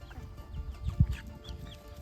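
A Barred Rock chicken gives a few soft, low clucks close by, with faint rustling in the background.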